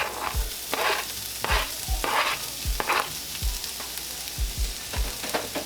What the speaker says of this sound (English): So let your onions saute for about maybe 2 minutes